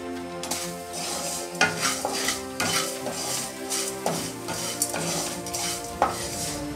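Pirandai and tamarind roasting in a pan while a spoon stirs, giving repeated scraping and clinking strokes in a regular rhythm over a low sizzle, close and without speech.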